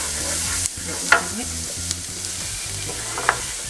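Flour stirred into softened vegetables in a pot for chicken pot pie, a steady low sizzle with scraping spoon strokes and a few sharper clinks against the pot, close and alone.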